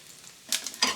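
Spices are dropped into about two spoonfuls of hot oil in a frying pan. After a brief quiet moment they burst into a bright hissing sizzle, then a second surge follows, close and loud, with no talking.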